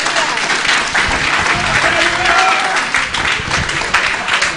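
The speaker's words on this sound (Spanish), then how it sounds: "Un aplauso al Señor." Sustained applause from a church congregation at an evangelistic service in Bonaire during a wedding ceremony, dense and steady throughout, with a voice faintly audible underneath.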